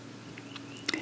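Chewing on a piece of birch bark, a short soft burst of close, faint crunching and mouth sounds.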